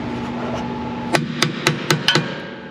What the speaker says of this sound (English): you got to bash this thing with a hammer